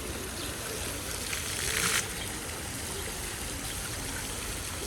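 Water splashing and flowing steadily from a fountain in Gagarin Park, Kryvyi Rih, a continuous close wash with a brief louder surge of splashing near the middle.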